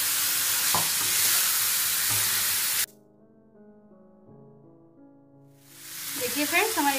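Noodle sandwich stuffing with boiled noodles and tomato sauce is stirred and fried in a pan. A loud broadband sizzle with scraping runs for about three seconds, drops to a quiet tonal hum in the middle, then swells back into frying toward the end.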